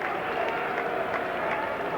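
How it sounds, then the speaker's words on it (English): Crowd applause at a one-day international cricket match between England and the West Indies at Edgbaston in 1988, greeting a batsman; a broad, steady wash of clapping from a large crowd continues throughout. "a big round of applause from this crowd for the New England batsman"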